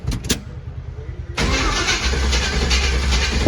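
A carbureted, turbocharged LS-powered truck engine cranks briefly, then catches and fires into a loud, steady rumbling idle close by.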